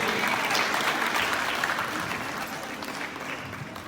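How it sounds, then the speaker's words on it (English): Dense applause from a large audience at a graduation ceremony fills the space, steady at first and then gradually tapering off toward the end. "Are we tired of clapping?"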